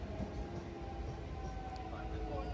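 Passenger train on the Tarakeswar line running between stations, a low continuous rolling rumble with faint steady tones, quiet and even throughout.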